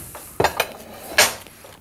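A utensil cuts into a pasta and Maroilles cheese quiche on a plate, giving a few sharp clinks and scrapes of metal against the dish in quick succession, close and without talking.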